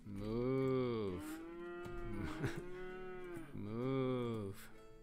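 Video-game cows moo in two long, loud calls separated by a lower moo in between, clear and close with no talking.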